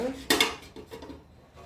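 A metal lid set on a pot of goat mutton dum biryani gives one sharp clang followed by a few lighter clinks and rattles, close and brief.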